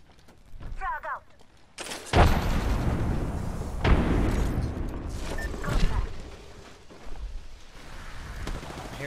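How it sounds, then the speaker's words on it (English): Thermite and frag grenades exploding in Apex Legends: several loud, booming blasts about two seconds apart, each with a rumbling tail over continuous gunfire and game noise, with a brief voice near the start. "Throwing thermite grenade. Thermite grenade out. Frag out."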